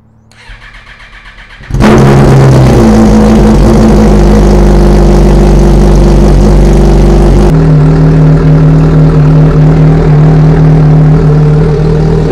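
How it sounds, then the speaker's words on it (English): A Honda F4 motorcycle cold-starts in a garage: after a quiet moment the engine catches abruptly and settles into a very loud, close, steady idle that rumbles on to the end, with no talking. "We're about to get a nice little cold start."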